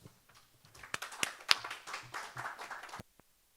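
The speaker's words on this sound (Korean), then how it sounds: "심찬 박수로 환영해 주시기 바랍니다" Brief applause from a seminar audience welcoming a presenter at a city cycling policy forum, a modest scattering of claps rising and fading within about three seconds before silence.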